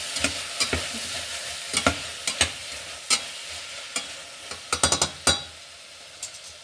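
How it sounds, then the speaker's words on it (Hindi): Vegetable manchurian is stirred in a hot pan, a spoon repeatedly scraping and tapping the metal in uneven bursts over a steady close sizzle, and no voice is heard. "अब मैं एक बार इसको फिर से चला देती हूँ"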